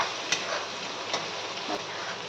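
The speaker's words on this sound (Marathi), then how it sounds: "कांद्याची पात चांगली परतून घ्यायची." Spring onion greens sauté in a pan for a Khandeshi brinjal bharit, a dense steady sizzle broken by a few sharp clicks from a spatula stirring, close and without talk.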